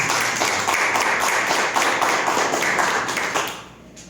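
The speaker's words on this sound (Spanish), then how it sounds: "Recibámosla con un fuerte aplauso." An audience at a round-table event on competency assessment claps in a dense, moderate burst of applause that fades out near the end.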